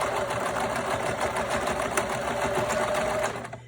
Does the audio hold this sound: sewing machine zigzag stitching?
yes